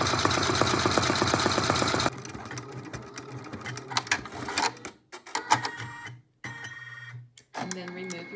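An embroidery machine runs a triple stitch around an applique piece on a felt chick-in-egg design, a fast steady mechanical whir that then breaks into uneven clicks and short bursts with pauses.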